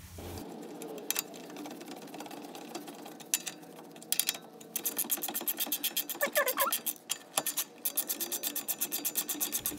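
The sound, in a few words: tightening nuts on a Toyota Camry lower control arm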